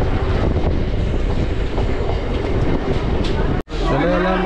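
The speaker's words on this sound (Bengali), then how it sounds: "ট্রেন মোটামুটি স্পিড নিয়ে নিয়েছে।" A local train out of Sealdah runs at speed toward Dum Dum Junction with a dense, steady rumble and rhythmic clickety-clack of wheels over rail joints, close and loud, broken by a sudden brief dropout near the end.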